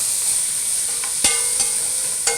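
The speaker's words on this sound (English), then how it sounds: "We'll saute these veggies down for about 5 minutes." Celery, carrots and garlic sauté in a hot pan with a steady, close sizzle, broken by a few sharp clicks of stirring.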